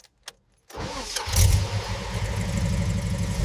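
A restored super SUV recovered from the sea cranks and starts, a couple of faint clicks then the engine catching with a loud rise before settling into a steady, close idle.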